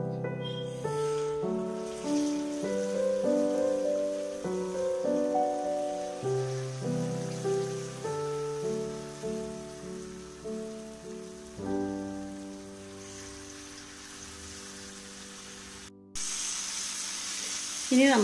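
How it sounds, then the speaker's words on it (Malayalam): Battered jackfruit pieces sizzle and crackle steadily in hot oil for a long stretch, with background music playing over the frying. "എണ്ണയൊക്കെ നന്നായി ചൂടായി വന്നിട്ടുണ്ട്. അപ്പോൾ അതിലേക്ക് നമുക്ക് ചക്ക ഓരോന്നായിട്ട് ഇട്ട് കൊടുക്കാം."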